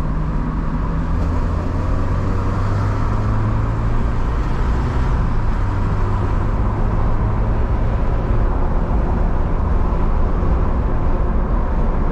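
Peugeot 306 SW 1.8 16v (XU7JP4) petrol engine heard from inside while driving through town, a steady loud hum with road and cabin noise, the pitch shifting slightly mid-drive, no talk.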